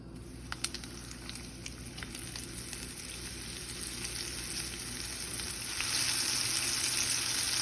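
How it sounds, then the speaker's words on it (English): A lightly floured white fish fillet sears in a hot pan, giving a steady close sizzle that swells louder toward the end, with a few sharp pops and crackles early on and no speech. "the first thing we do is get a sear on our fish, which has been lightly floured."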